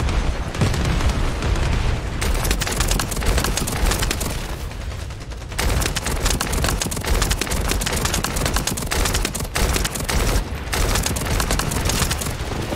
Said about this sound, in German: Jetzt kommen Explosions.